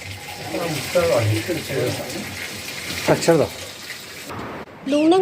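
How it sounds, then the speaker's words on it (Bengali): Water runs and splashes at a water source near Phukthar monastery in the Zanskar valley, steady and close under voices talking. "এটা জলের সোর্স জল উপরে"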